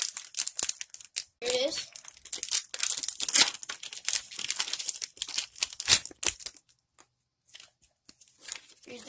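A Pokémon trading card booster pack is torn and crinkled open up close, with loud bursts of foil crackling and ripping in irregular clusters, broken by short pauses and a brief spoken phrase.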